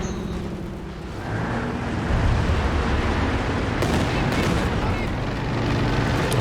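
Rapid gunfire and artillery in Company of Heroes 2 during a 2v2 match, loud continuous bursts and booms layered with battle noise, growing heavier partway through, with a voice talking over it.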